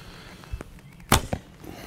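A wooden arrow leaves a Paragon Solak bow with a quick, soft snap and thud, a brief and fairly quiet release with nothing else around it.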